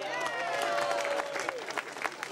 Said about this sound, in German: Und jetzt dürfen wir alle Künstler applaudieren.